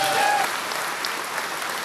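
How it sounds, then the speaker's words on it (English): Dense, steady applause from a crowd at a Louisa County board meeting after a Second Amendment sanctuary vote passes, filling the room at even strength with no voices. "Those claps are the sound of victory for people in favor of making Louisa County a Second Amendment sanctuary."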